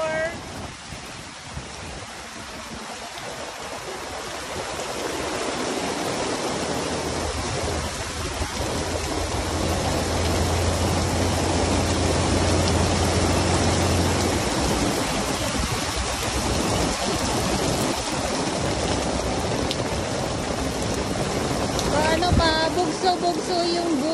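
Heavy rain pouring down at Dolomite Beach on Manila Bay, a dense, steady hiss that builds after the first few seconds and stays strong, with a voice talking intermittently over it.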